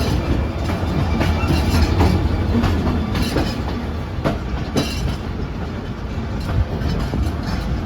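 Pak Business Express passenger train running from the loop line onto the main line, a steady loud rumble with rhythmic clickety-clack of wheels over rail joints throughout, no voices.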